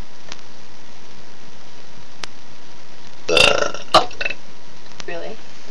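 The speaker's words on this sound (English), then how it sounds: "You have to burp for every word." A loud human burp erupts close up as a rough, gravelly burst lasting about half a second, followed by a shorter belch and faint clicks against a quiet room.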